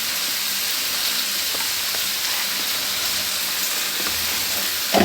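Ivy gourd (dondakaya) frying in a pan with salt and turmeric, making a loud, continuous, close-up sizzling hiss that stays even throughout, with a faint clatter at the very end.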